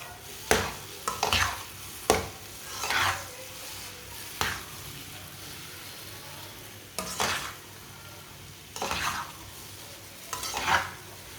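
Egg suji halwa stirred in a pan, several separate scraping strokes about a second or two apart over a soft, continuous sizzle, close by.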